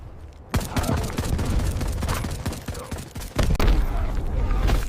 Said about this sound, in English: Dave, keep firing.